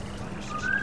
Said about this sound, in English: So let's whistle.